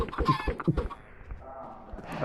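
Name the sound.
chickens clucking in Minecraft video game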